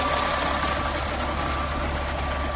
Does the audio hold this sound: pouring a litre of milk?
no